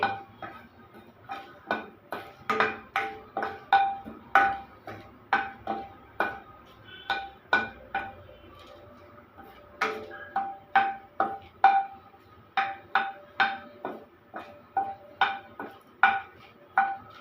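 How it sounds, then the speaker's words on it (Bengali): Dried red chillies and bay leaves frying in a hot kadai, stirred with a metal utensil: a close, steady run of sharp clinks and scrapes against the pan in a regular rhythm, with brief pauses. "প্রথমে আমি শুকনো লঙ্কাটা দিয়ে দিলাম আর দিয়ে দিলাম তেজপাতাটা এইগুলোকে আমি একটু হালকা করে একটু আগে প্রথমে ভেজে নিচ্ছি"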